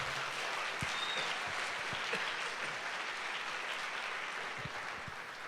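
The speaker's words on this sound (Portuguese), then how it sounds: "Dá um aplauso a Jesus" A church congregation at a Sunday service claps in sustained, dense applause, steady and fairly far off, fading slightly toward the end.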